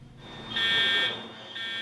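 A fire alarm blares inside a shopping mall during an evacuation over an electrical fire, a steady piercing electronic tone that swells loud, dips briefly, then returns with no talk over it.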